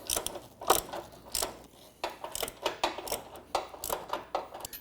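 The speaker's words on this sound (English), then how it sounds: "It's a lot easier to get my ratchet through the top and room to get it tightened" Ratchet tightening bolts on a front bumper of a Jeep Wrangler JL, a series of quick clicking bursts in irregular clusters, close and fairly quiet.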